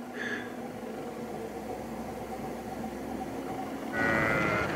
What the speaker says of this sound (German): da hat man schon wieder im Hintergrund gehört, das Schaf.